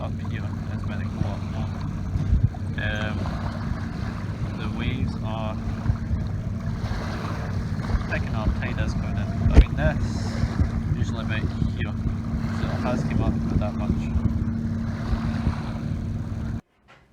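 Hurricane Michael in 2018 churns up waves along the shore while strong wind batters the microphone, making a steady, loud roar with low rumbling surf that continues throughout.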